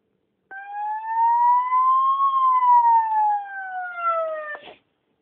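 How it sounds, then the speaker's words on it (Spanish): An ambulance siren gives one steady electronic tone with bright harmonics. It rises gently in pitch and then slides back down, clear and close, with no voices, and cuts off sharply after about four seconds. "También tenemos la baliza de una ambulancia"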